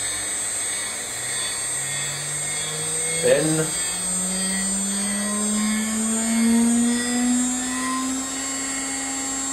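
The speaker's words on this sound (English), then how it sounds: "you can hear that that is spindle starting up" A CNC spindle motor hums steadily and then whines upward in pitch as it spins up to speed, with a brief click partway through and a bit of talk.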